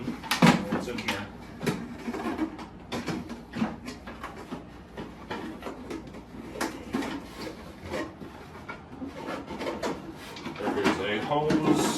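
Plastic water reservoir of an AEOCKY 4500 sq.ft dehumidifier pulled out and handled, giving repeated close clunks, rubs and knocks scattered through, with a person talking intermittently.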